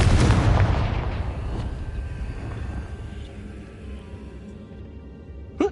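A Confringo blasting spell goes off in a Harry Potter video game on PS4, a loud booming burst that rolls and fades over several seconds, with a small pop near the end.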